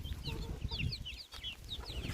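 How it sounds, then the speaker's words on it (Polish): Newly hatched chicks peep in rapid, high chirps over low, steady clucking from hens in a poultry coop, all close and continuous with no talking. "Tutaj kurczaczki od Basi"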